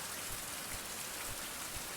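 Steady rain falls at night outdoors, a dense even hiss of drops with faint heavier patters, no voices.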